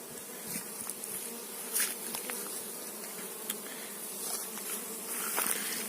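A steady, dense buzz of many honey bees fills the air nearby at an apiary on a hot day, with a few louder insects droning past now and then.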